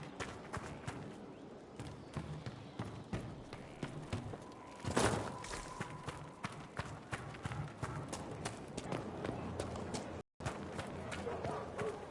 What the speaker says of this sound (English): I forgot about the Ferelden horses.